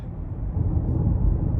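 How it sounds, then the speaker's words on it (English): Steady low tire roar from a 2021 Honda Accord Hybrid EX-L rolling over a rough road surface, a continuous close rumble heard from inside the cabin with no other sounds. "You hear most of the noise coming from the tires and this rough road I'm on."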